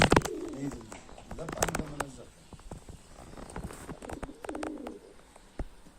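Racing pigeons in a coop in Mardin give soft, low cooing calls alongside scattered wing flutters and shuffling, close by and moderate in volume.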